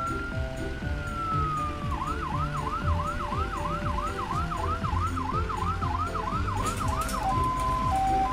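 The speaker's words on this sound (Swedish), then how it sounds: "Om det uppstår en nödsituation sätter den på sina lampor och sin siren." An ambulance siren in a children's cartoon wails with a steady tone and then a rapid repeating yelp, sounding over a bouncy music backing.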